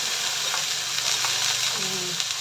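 Pork fat rendering in a small amount of oil in a pan gives a steady, dense sizzle and crackle throughout, close and even, with no talking.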